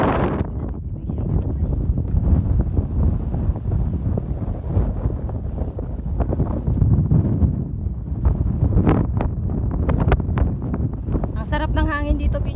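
Strong wind gusts buffet the microphone outdoors in Jordan, a loud, continuous low rumble with rustling throughout, while voices talk faintly underneath.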